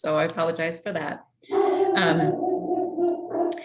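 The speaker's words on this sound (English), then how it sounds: "Sorry about the dog." A dog barking and whining during an online workshop, several sharp yelps up front followed by a drawn-out whine, close and loud, mixed with a person talking.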